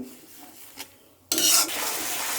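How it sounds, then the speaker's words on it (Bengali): Spices stirred into a hot pan with ginger-garlic paste, salt, turmeric and chilli powder, for a Bengali tangra fish bhuna: a quiet scrape, then a loud, steady sizzle as the mixture is worked around. "মশলাটা ভালো করে মিশাবে"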